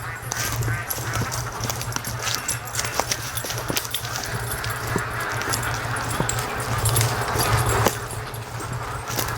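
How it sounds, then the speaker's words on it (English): Ducks quacking loudly and continuously at a lake during a morning rush to the water, a dense, busy chorus of calls close by with some honking mixed in. "They get down to the lake here and they're quacking like crazy"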